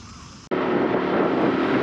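Bajaj Pulsar NS 160 motorcycle being ridden, a steady, loud engine and road roar that cuts in abruptly after half a second of quieter sound and holds evenly to the end.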